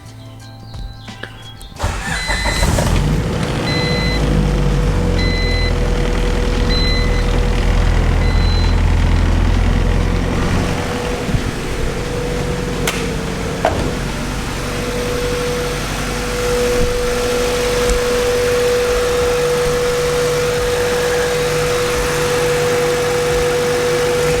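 A Honda CRX engine, running rough, cranks and catches, then idles steadily with a low uneven rumble and slight sputtering, close and fairly loud throughout with no talking.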